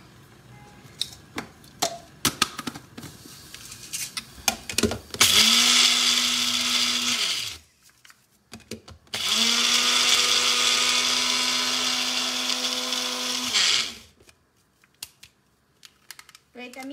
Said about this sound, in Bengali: আচ্ছা, এখন আমি একটু ব্লেন্ড করি।